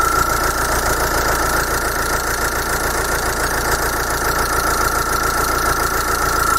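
A car engine idles steadily with a continuous, even drone and a faint tonal whine, with no talk over it.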